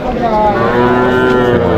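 Cattle at the Vaniyambadi cattle market, including home-raised cows, low drawn-out mooing close by and loud, a single sustained call over the crowded market din.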